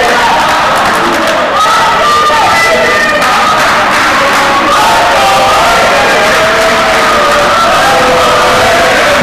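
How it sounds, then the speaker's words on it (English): Basketball crowd at a high school game with rival cheering sections trading chants back and forth, a loud, dense roar of many voices with rhythmic chanting throughout, close and sustained. "the cheering sections are going back and forth at each other, different chants"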